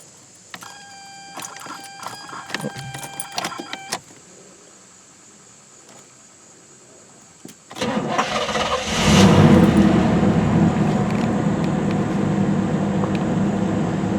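A Camaro Berlinetta's engine cranks and catches after a stretch of electronic chimes and quiet, then settles into a loud, steady idle with a brief rev as it starts up.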